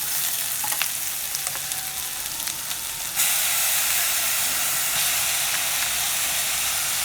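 Steady, loud sizzling of ginger garlic paste frying in a hot pan with green chillies for duck gravy, a bright hiss with occasional stirring scrapes and crackles.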